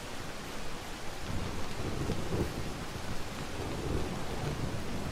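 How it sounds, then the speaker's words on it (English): Heavy rain with rumbling thunder from a dark, foggy storm setting in a witch academy role-playing game, a steady dense downpour with low rolling thunder swelling throughout, no talking. "Okay, we'll do force storm. That's a very rainy day."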